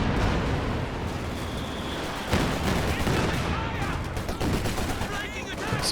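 A big grenade blast in a Company of Heroes 2 three-versus-three battle erupts amid a dense wash of machine-gun fire and distant artillery, loud and continuous, with a commentator's voice faintly underneath.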